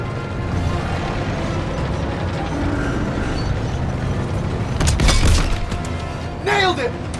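Tank cannon round striking a Panzer tank in a World War II battle in Call of Duty: WWII, a loud crashing impact rising over steady rumbling combat noise, with a voice calling out briefly afterward.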